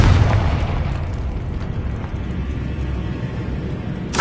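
A Confringo blasting spell explodes in Hogwarts Legacy, a loud, deep boom that starts strong and rolls into a long, rumbling decay before a sharp burst at the very end.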